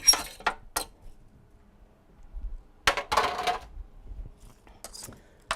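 Butternut squash and Brussels sprouts are tipped onto a baking sheet, giving scattered clinks and clattering bursts separated by quiet gaps.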